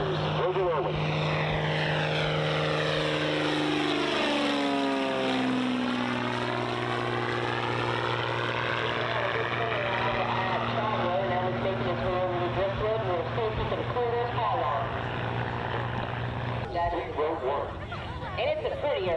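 A propeller airplane drones steadily as it passes at an air show in Arkansas, its pitch sweeping down with a rolling engine hum; voices talk underneath.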